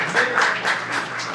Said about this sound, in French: Ah oui, on peut applaudir.